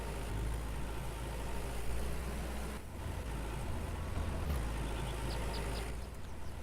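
A tractor engine idles in the Farmer's Dynasty farming video game, a low, steady, quiet mechanical rumble with no voices over it.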